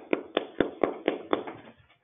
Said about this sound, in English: I was the only one clapping